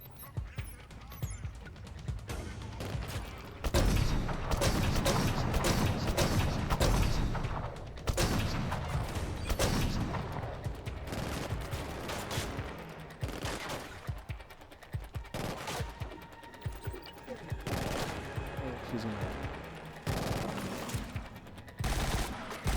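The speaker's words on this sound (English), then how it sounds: "We're gonna snipe this guy right in the face." Dense gunfire in the video game Killzone Shadow Fall, with loud bursts and volleys of shots and booms running almost continuously, with a voice talking over parts of it.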